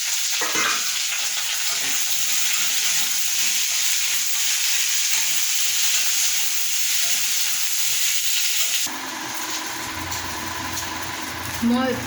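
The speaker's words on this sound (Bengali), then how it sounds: "এটা নাড়াচাড়া করতে করতে ভাজা ভাজা হবে" Vegetables for a Bengali sukto fry and sizzle in a pan while being stirred, a steady close hiss under a speaking voice that gives way to a quieter, different texture near the end.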